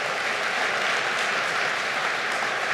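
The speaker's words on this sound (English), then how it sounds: "wait, don't clap" An audience at a firearms symposium keynote breaks into dense, continuous applause, loud and even throughout with no speech over it.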